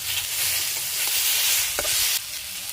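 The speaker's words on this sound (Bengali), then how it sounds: "তারপরে ভাজা সবজির সঙ্গে মশলাটা দিয়ে মশলার সঙ্গে সবজিগুলো ভালো করে কষিয়ে নিয়ে" Fried vegetables being sautéed with a chilli-cumin spice paste for a fish curry, a soft close sizzle with scraping stirs and a sharp utensil knock near the end, no talking.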